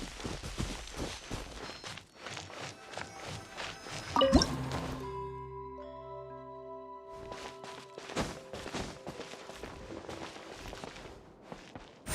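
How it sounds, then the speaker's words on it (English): In the video game Genshin Impact, a single bright water drip from a wall plinks out, ringing with a short echoing tail, amid soft scattered clicks and shuffling footsteps. "Wow, another water droplet just came out from the wall!"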